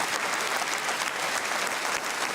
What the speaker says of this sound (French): Vous pouvez vous applaudir vous-même